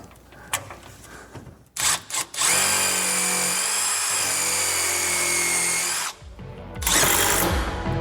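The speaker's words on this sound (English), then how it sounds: "put another couple of screws in. Let's even drill more." A power drill drives screws into wood: a few short revving bursts, then a long, loud, strained whine that cuts off, followed by another brief burst.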